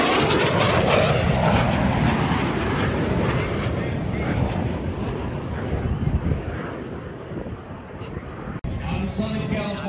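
Vintage jet fighters such as the F-86, MiG-15 and MiG-17 make a flyby at the Central Coast AirFest in Santa Maria, California, a loud, broad roaring rush that swells and fades over about ten seconds.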